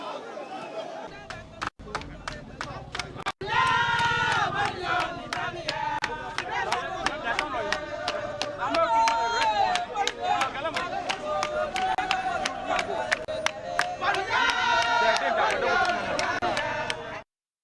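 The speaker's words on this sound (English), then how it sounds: "A number of them cheering him on." Supporters gathered for a nominee for Minister of State in charge of local government cheer and shout loudly as a crowd, a dense, continuous din of voices with chanting-like bursts throughout.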